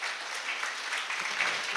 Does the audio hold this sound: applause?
yes